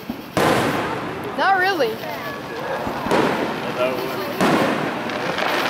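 Backyard Fourth of July fireworks from a hurricane firework go off in a series of sharp bursts and crackles, with a whistling rise, while people talk and exclaim over the blasts.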